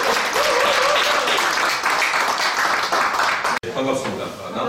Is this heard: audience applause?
yes